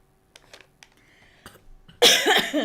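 Faint clicks and soft noises, then a loud, close cough bursts out near the end, rough and sustained for a moment.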